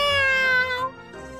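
A cat meows in an animated series, one long drawn-out, clear meow that fades into a shorter second cry, close and alone.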